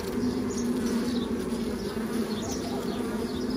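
Honeybees hum steadily at a hive as a young bee emerges from its comb cell, a dense continuous buzz close by with no talking.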